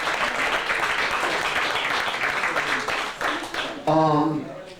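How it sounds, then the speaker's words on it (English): An audience claps for a guest at a talk on music, a broad steady wash of many hands that thins toward the end as a voice cuts in over the last moments. "Let's give that brother a round of applause"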